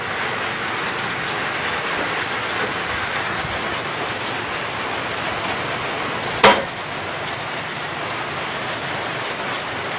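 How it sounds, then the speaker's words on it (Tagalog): Heavy rain pours down outdoors during a storm with multiple waterspouts offshore, a dense, loud, unbroken hiss with one sharp knock partway through. "Grabe ang ulan nito."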